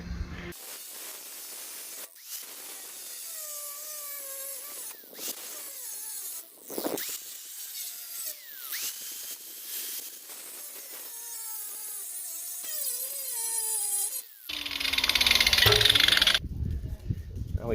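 A power tool breaking the weld on a rusty trailer fender, heard as a rising whining grind with squealing tonal sweeps and scraping, ending in a loud burst of hissing grinding before a sudden stop.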